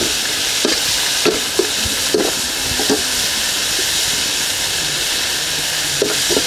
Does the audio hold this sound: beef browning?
yes